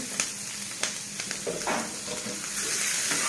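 Onions sizzling and crackling in hot oil, with occasional sharp clicks of a spatula stirring, close and steady, no one speaking.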